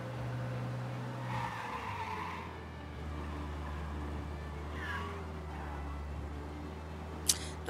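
Car engine droning and tires skidding in the video game Mafia Definitive Edition, a steady low motor hum with a couple of squealing swells, ending in a sharp click.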